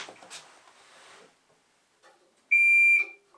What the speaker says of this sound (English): I am wiring up bilge pumps and alarms for high water.